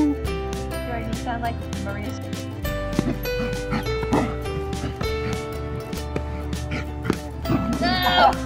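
A dog barks and yips repeatedly at close range during a giant badminton game, with short sharp barks and whimpers mixed among excited voices talking and laughing.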